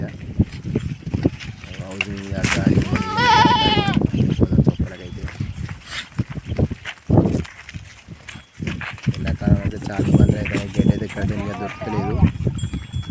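Sheep bleat repeatedly at close range while grazing on maize fodder, several wavering calls over a few seconds, while people talk nearby and animals shuffle around.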